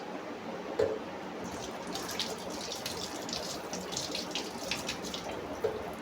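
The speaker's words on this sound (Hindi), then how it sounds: "अब हाथ मैंने धो लिए" Water runs steadily from a kitchen tap as hands are washed beneath it during home cooking, a continuous soft splashing hiss with small irregular drips and splatters, fairly quiet and close, with no voices.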